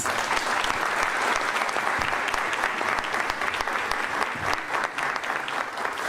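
Audience applause at a heraldry society's year-end closing ceremony, a dense, steady clapping from the crowd that keeps going at even loudness through the whole stretch.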